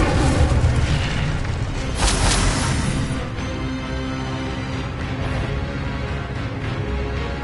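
Incendio fire spell blasts in Hogwarts Legacy, loud roaring fiery bursts with a strong whoosh near the start and another around two seconds, then a sustained crackling rumble, no talk.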